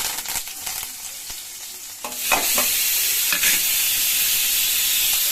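Chickpeas (shanigalu) hit hot oil with a few clatters and stirring scrapes, then the frying breaks into a loud, continuous hiss and sizzle that holds steady, close by.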